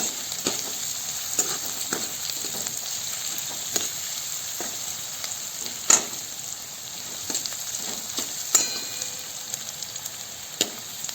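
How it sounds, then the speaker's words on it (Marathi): Onion fries in a pan for a potato dish, giving a continuous close sizzle broken by frequent sharp ticks and spatula taps, with a few louder knocks. No one talks. "कांदा चांगला असा भाजत आला की नंतर मग आपण जिरे मोहरे घालणार आहोत"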